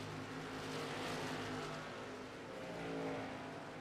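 Onboard race car engine in an oval racing sim, a steady droning roar that eases and swells as the driver rolls off and back onto the throttle, loud and continuous with no talk.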